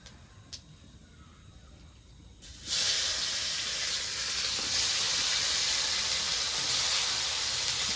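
Chopped tomato hits hot oil already spiced with dried red chillies and whole cumin, setting off a sudden loud, steady hiss and sizzle that keeps going after a quiet start.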